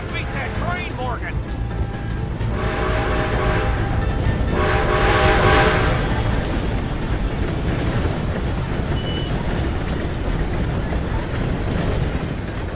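A train rumbles past in the western game Red Dead Redemption 2 as a steady loud roar of rolling wheels with a horn-like tone midway, while voices shout over it.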